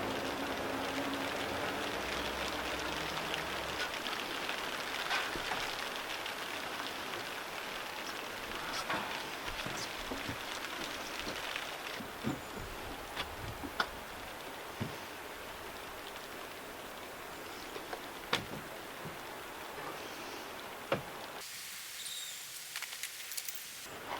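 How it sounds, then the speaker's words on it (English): Steady rain patters down over an outdoor garden room cabin build site, a continuous hiss with scattered drip clicks, then cutting to a quieter, brighter wash near the end. "Literally fighting the rain every day."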